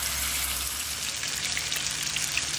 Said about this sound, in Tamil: தோசை தவாவில் எண்ணெய் சூடு ஏறிடுச்சு. சவுண்டு கேட்குதுங்களா? வஜ்ர மீன் 2 பீஸ் அதில் வைக்கிறோம்.